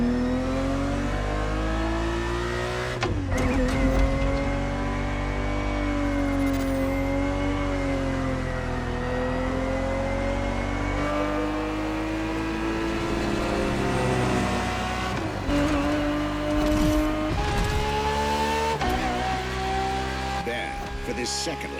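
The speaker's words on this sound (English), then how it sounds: "365 GTB4 is the perfect vehicle for you to experience Ferrari racing as it felt back in the 70s" A 1970s Ferrari 365 GTB4 engine in The Crew Motorfest racing game, a steady loud revving drone that rises and falls through gear changes with brief shifts and surges, continuous across the lap.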